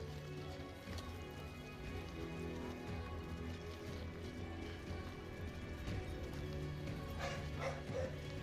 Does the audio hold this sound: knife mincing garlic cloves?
no